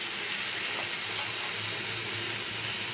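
Potatoes frying in hot oil with dried and fresh chillies and a pinch of asafoetida, a steady broadband sizzle close by with one brief clink, no voices.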